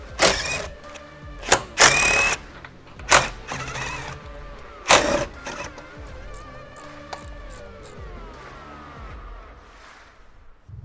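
A ratchet fitted with a 12mm socket backs out rear bumper bolts on a 2016-or-later Toyota Tacoma, giving several loud, sharp bursts of clicking and clanking metal close by. Quieter ticking and fiddling follow with no voices.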